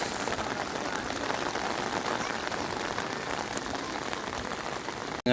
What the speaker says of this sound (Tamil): இங்கே பார்த்திங்கன்னா கடுமையான மழை பெய்து கொண்டிருக்கிறது